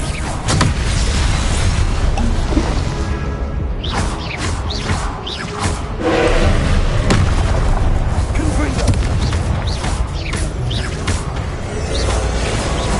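Confringo blasting-spell explosions in a Hogwarts video game, a dense run of heavy booms and crackling bursts that roll on almost without pause, loud and close, with magical whooshes between them.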